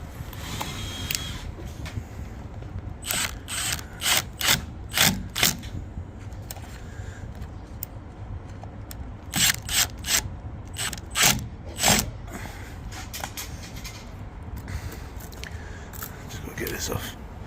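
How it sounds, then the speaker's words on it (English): Screws are tightened into an aluminium door closer plate on a thermal aluminium door, giving repeated short ratcheting, clicking bursts in clusters up close, with occasional low speech around them. "These fixing screws here for the plate as well. You get them tightened up."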